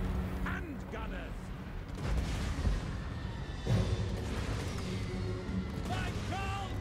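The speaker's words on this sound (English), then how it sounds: "Trying to avoid artillery shots here." Booming artillery shots and battle clamor from a Warhammer video game, with dull thuds rolling under a dense mix of clashing combat noise and shouted voices throughout.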